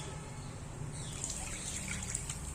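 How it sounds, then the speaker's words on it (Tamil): Boiled milk pours into a pan for rusk halwa, making a soft, continuous trickle with a faint background hum. "இப்போ வந்து பால் 1/2 கப்பு வந்து இதில் சேர்த்துக்கிறேன்."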